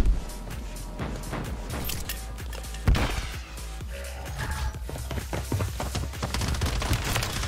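Rapid HRM9 submachine gun bursts in the shooter game Warzone, dense stuttering fire with sharp impacts and one heavy boom near three seconds, loud and continuous over busy game action.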